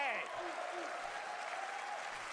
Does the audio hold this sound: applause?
yes